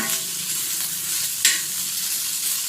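Okra with curry leaves frying in hot oil makes a loud, dense, continuous sizzle, close up, with one brief brighter hiss partway through.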